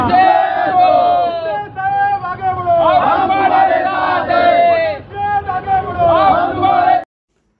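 Shiv Sena supporters in Mhasla, Raigad, chant celebratory slogans for their newly named guardian minister. The crowd roars in loud, rhythmic bursts that rise and fall, with brief pauses between the shouted phrases.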